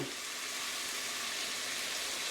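Four cloves of roughly chopped garlic fry steadily in a pan over low heat, giving a continuous soft, even sizzle close by with no talking.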